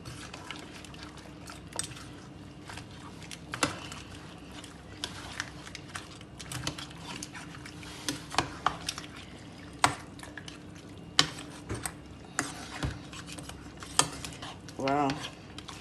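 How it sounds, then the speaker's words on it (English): Food being stirred in a pot for traditional Liberian GB, with irregular scraping and clinking of a utensil against the pot and occasional wet dripping, close by and moderately quiet beneath room noise. "I'm going to mix this well."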